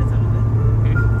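A car's engine runs with a steady low droning hum, heard loud and close from inside the vehicle during a brief moment.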